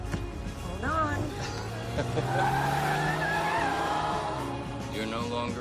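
A sports car skids with loud, wavering tire squeals over a rising engine roar, close and intense, while people talk over it.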